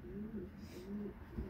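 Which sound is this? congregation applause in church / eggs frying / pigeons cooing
pigeons cooing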